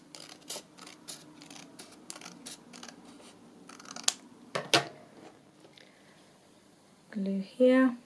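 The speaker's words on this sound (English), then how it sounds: "So I might just trim that a bit." Paper being trimmed with scissors while making a music journal, with a series of crisp, close snips and some papery rustling, ending in a few louder handling sounds.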